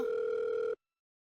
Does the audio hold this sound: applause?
no